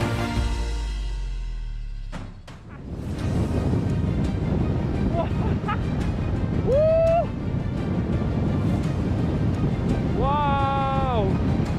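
Head-on wind buffeting the microphone during a mountain hike in the Gapençais region, a loud continuous roar with a brief lull, while a voice briefly calls out over it.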